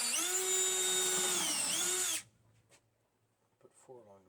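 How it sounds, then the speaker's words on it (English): A power drill driving a countersinking bit into pilot holes in wood runs loud and steady for about two seconds, its pitch dipping briefly under load, then cuts off into near silence with a faint voice toward the end. "I'll drill and countersink"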